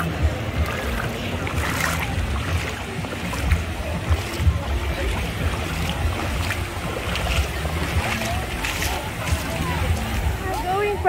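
Paraw sailboat out on the open sea off Boracay, with steady water sloshing against the hull and wind buffeting the microphone throughout, while voices talk over it.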